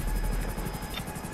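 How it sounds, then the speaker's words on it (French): Helicopter in the video game GTA 5 Online: a steady pulsing rotor thump with an even rapid beat and a constant engine whine, continuous and close, with no talking. "J'adore cet hélico."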